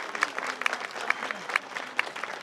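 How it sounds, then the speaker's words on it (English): A crowd claps for a brass and wind band and high school marching bands at an outdoor boulevard centennial celebration, scattered claps under a thin murmur of voices, with a few sharp, distinct hand claps standing out close by. "Give them a round of applause."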